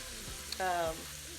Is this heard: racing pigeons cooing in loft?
no